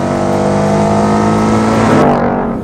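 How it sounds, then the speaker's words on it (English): A Ford Mustang GT engine revs hard and loud, its deep roar climbing steadily before easing off at the end. "the Mustang GT. There is just something about this engine that I absolutely love."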